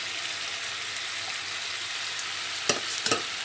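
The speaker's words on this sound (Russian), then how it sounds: "И обжариваем на сковородке до золотистого цвета." Chicken frying in a pan until golden for plov gives a steady, bright sizzle throughout, with a couple of sharp clacks from a utensil near the end.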